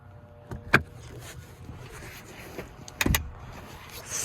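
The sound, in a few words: Nissan Pathfinder third-row seat restored on hydraulic strut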